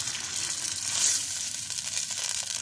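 Chicken sizzles and fries in a pan as it is stirred, a bright continuous hiss of hot oil with faint scraping movement, close and fairly loud.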